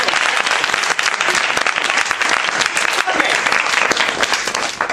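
A live comedy audience at a Romeo and Juliet stage show breaks into vigorous, continuous applause lasting five seconds, dense and close, with some crowd noise mixed in.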